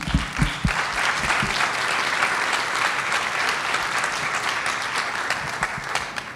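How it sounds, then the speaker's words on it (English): A conference audience in a main session hall breaks into sustained applause, dense and steady clapping from a large crowd lasting several seconds before gently tapering. "that deserves a round of applause."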